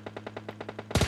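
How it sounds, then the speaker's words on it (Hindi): Automatic gunfire in the mobile game PUBG Mobile Lite: a rapid, evenly spaced burst of about ten shots, followed by a louder, denser flurry of overlapping shots at the end, with no voices. "फायरिंग कर रहा हूँ और मुझे भी गोलियाँ लगने लगी"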